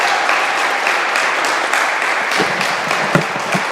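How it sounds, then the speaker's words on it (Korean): A church congregation at an Easter Sunday service in Paris applauds loudly, a dense, sustained wash of clapping that carries through the whole stretch with no talk over it. "우리를 위해서 부활하신 주님을 위해 이 정도로만 박수 쳐도 되겠습니까?"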